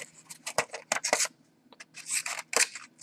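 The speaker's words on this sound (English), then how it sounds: "Has some of the best scissors I've ever seen." Small scissors on a Leatherman Micra keychain multitool snip repeatedly, a quick series of crisp close metallic clicks and cuts in irregular bursts, with no talking.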